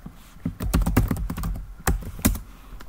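Rapid clatter of keys on a computer keyboard as a password is typed, a close, busy run of taps followed by a few isolated keystrokes after a short pause.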